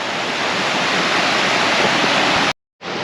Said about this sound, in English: I'm pretty sure that's the main waterfall.